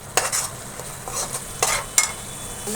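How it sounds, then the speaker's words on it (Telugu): Onions fry in a pan while a utensil stirs them, giving a soft sizzle with several short scraping bursts spaced irregularly. "మళ్ళీ ఆనియన్స్ అయితే పెట్టి మళ్ళీ ఫ్రై చేస్తున్నాను"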